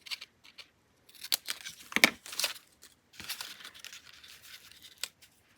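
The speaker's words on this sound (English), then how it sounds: "I'm going to tear it down here and cut because I have stitching" Paper being torn and cut with scissors for a painted Christmas journal page, heard as close, bursty crinkling rips and snips with brief pauses between them.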